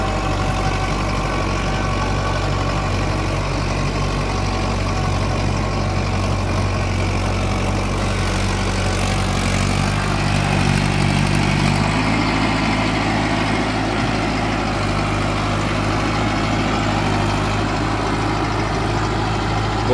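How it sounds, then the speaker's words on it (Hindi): A Mahindra 555 DI Power Plus 57 HP tractor pulling an 8-foot rotavator through a field gives a loud, steady, close engine drone that holds unbroken for the whole stretch. "8 फुट रोटावेटर में चल रहा है ट्रैक्टर।"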